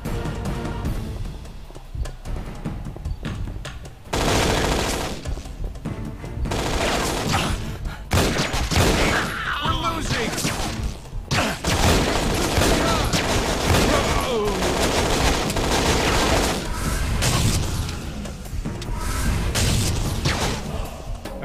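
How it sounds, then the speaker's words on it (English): Gunfire in a video game shootout comes as loud, dense volleys of rapid shots and heavy booms that pile up with almost no pause. "I got wounded by a shot."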